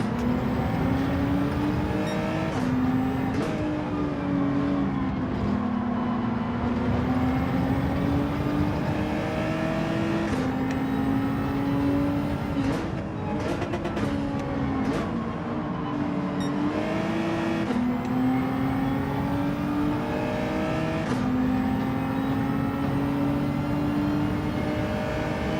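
A racing car engine in Gran Turismo 7 drones loud and steady through a lobby race, its pitch rising and falling with gear changes and throttle over about twenty-five seconds, with no speech.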